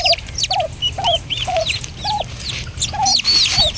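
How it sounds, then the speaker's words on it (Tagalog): Young Bourbon Red turkey chicks keep up a repeated run of soft chirps and peeps, close and fairly loud, with other small birds chirping in the background. "Ayan po yung apat na sisiw ni Baking"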